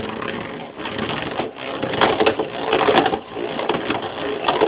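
A Beyblade Zero G spinning top whirs unbalanced on its stadium with a continuous rough rattling grind. The sound wobbles in loudness as it spins close by.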